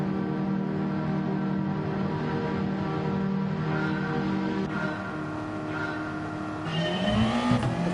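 Ferrari race car engines roar steadily in a Gran Turismo 7 daily race at Deep Forest Reverse, a dense continuous drone that shifts pitch near the end as revs climb and another car passes close by, with no talk.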